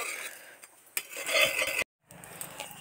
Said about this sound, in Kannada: ಮಸಾಲೆ ಹಾಕಿಬಿಟ್ಟು ಒಂದು 2 ನಿಮಿಷ ಚೆನ್ನಾಗಿ ಬಾಡಿಸ್ಕೊಳ್ಳಿ